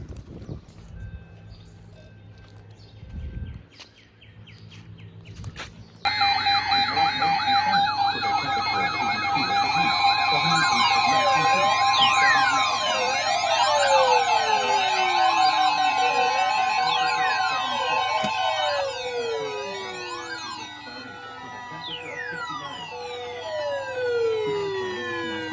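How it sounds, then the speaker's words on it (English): A Federal Signal 2001 SRN mechanical siren winds up and wails loudly during a school fire drill, its rising and falling tones sweeping repeatedly and layered with other warning tones after a quiet start. "why the fuck was the fire alarms going off?"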